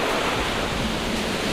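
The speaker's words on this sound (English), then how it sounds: "Just the waves are just beautiful." Ocean surf washes in on a Florida shore as a dense, steady hiss of breaking waves, loud and close, with wind buffeting the microphone.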